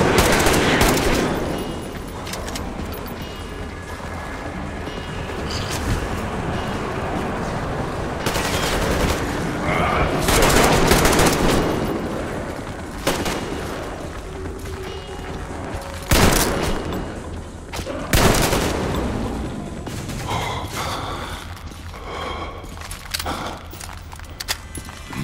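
Sustained gunfire rings out against mutants in The Dead City, with dense volleys, rattling bursts and sharp booming shots that fade and flare across the whole stretch, footsteps shuffling between louder blasts.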